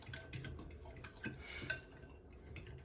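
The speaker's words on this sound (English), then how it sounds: "And then you're gonna stir that all together" Whisking an egg mixture with cinnamon in a bowl for French toast gives quiet, steady clinks of utensil against dish with a faint liquid slosh, close and continuous, with no talk.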